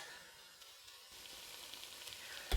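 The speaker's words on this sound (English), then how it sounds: "I'm going to add the can of chickpeas." Drained, rinsed canned chickpeas go into a sautéing pan and sizzle softly; a faint hiss swells after about a second, with a small clank at the end.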